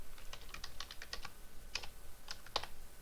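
Keys clatter on a computer keyboard as an equation is typed into Desmos, a close run of quick clicks with short pauses between bursts, heard alone.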